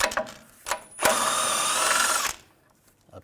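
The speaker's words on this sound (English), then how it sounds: "we're going to take these 2 bolts out, use an 18mm socket." Power socket tool with an 18mm socket spinning out a bolt on a 2014-2018 GMC Sierra 1500 during 4WD actuator replacement: a few short clicks, then one loud whirring burst of about a second, close by.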